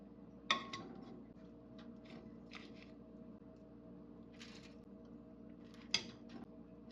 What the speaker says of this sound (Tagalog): Ayan, atong ibutangan sa atong kawali.